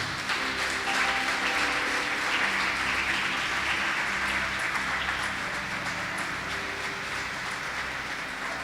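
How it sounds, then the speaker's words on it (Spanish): A church congregation applauds for the Lord during a youth service at a cathedral, a steady wash of many hands clapping that holds for the whole stretch, with a low hum and droning tones running underneath. "¿Cuántos le dan un aplauso al Señor?"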